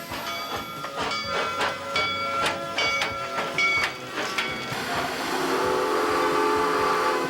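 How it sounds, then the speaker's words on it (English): A Transvaal Railway steam train rumbles past with rhythmic chuffing and metallic clatter, then a sustained whistle-like hiss rises and holds toward the end. "on one of the Transvelt Railway's old-fashioned steam engine trains."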